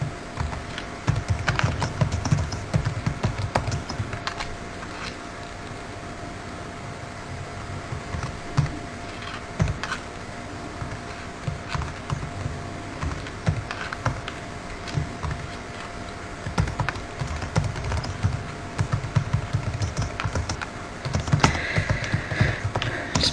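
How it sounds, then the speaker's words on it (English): Steady typing on a computer keyboard while writing HTML for a first web page, with close, irregular bursts of key clicks and brief pauses, and no talk. "Just bear with me while I type this, we're nearly there."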